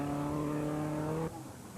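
A WRC rally car takes a tarmac junction at the Circuit of Kerry Rally, its engine loud and close with a strong steady tone that cuts off abruptly as the car clears the corner.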